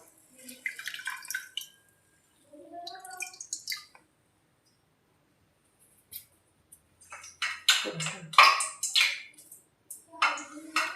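A wet cotton cloth is wrung out by hand while preparing panipuri dough, giving several short bursts of squishing and dripping water. The sounds are close and soft, with quiet gaps between them and no talk.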